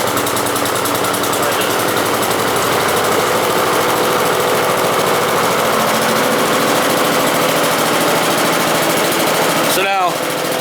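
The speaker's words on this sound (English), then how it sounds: "What I'll do is I'll just start the engine up." A new Honda GC engine fitted to a walk-behind lawn mower runs steadily at close range with a loud, even mechanical drone, and a brief thump breaks in near the end.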